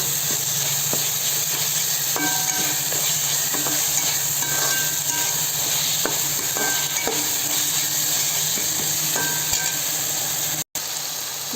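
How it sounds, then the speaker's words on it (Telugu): Tomatoes and onions fry in oil for a Telangana-style goat head curry, a loud steady sizzle and hiss with occasional stirring scrapes throughout. "ఒక నిమిషం పాటు బాగా ఈ నూనెలోనే ఉడకాలన్నమాట"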